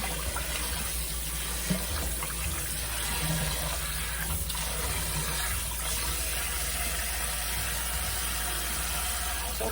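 Cold tap water runs steadily into a sink while chicken is washed, a continuous rushing splash with no pauses and no voices.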